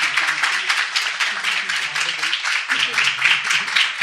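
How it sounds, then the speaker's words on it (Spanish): An audience at a Spanish-language talk of the Raudive association claps steadily throughout, with voices and cheers from the crowd mixed into the continuous applause. "quiero un aplauso para Mari Carmen y para José Luis"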